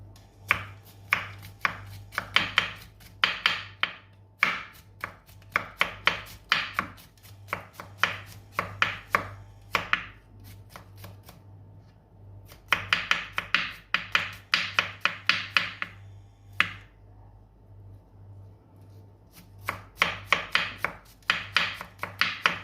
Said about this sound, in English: chop into tiny bits like that